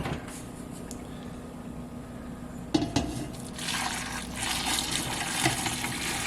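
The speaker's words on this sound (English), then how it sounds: "Brought my syrup up to a boil. Now we just got to dump it in." Boiling syrup for cinnamon pickles is poured into a jar, with a quiet low hiss, a sharp clink of glass, then a rising liquid gush that continues to the end.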